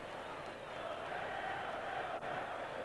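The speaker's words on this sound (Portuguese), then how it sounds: "E a torcida do Vasco grita a plenos pulmões." Vasco supporters roar continuously throughout a 1988 Brazilian championship match against Botafogo, a dense, loud stadium crowd wall of shouting with a brief dip near the end.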